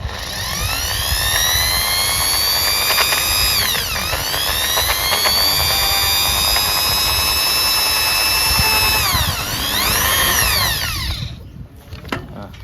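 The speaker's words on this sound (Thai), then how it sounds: "เดี๋ยวผมจะใช้วิธีการใช้สว่านเจาะนะครับ ไล่เบอร์ไปเรื่อยๆนะครับ" An electric drill bores holes to mount a rear rack on a Honda CB1300 motorcycle, whining loudly and close for about eleven seconds, its pitch dipping and rising several times as it loads, then stopping abruptly.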